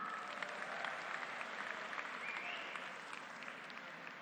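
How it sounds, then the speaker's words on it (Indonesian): A crowd applauds at an Anies Baswedan political rally of volunteers: dense, continuous clapping from many hands, fairly distant, that eases slightly toward the end, with no speech over it. "Tepuk tangan untuk kita semua."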